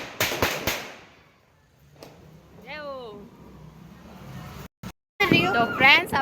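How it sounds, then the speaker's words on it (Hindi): Diwali firecrackers pop in a few sharp bangs, then a person talks loudly over more crackling and distant blasts. "तो ये देखिए अब है टाइम पटाखे चलाने का।"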